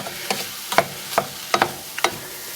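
Cumin and turmeric fry in a hot pan with a constant close sizzle, punctuated by several distinct scraping taps of a spoon stirring the spices, no voices.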